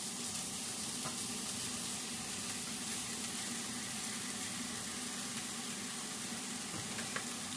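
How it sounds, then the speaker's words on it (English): Noodles and ground meat fry in a warmed pan, a dense, even sizzle that holds steady throughout, close up with no voices. "I'm just going to dump some of these noodles into this ground meat because I just warmed up the pan a little bit."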